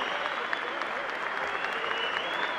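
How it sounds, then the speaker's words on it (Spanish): Audience applauding steadily at a professional women's WBO boxing event, dense sustained clapping filling the arena before the fight. "Y así con este aplauso despedimos a las banderas de ceremonia."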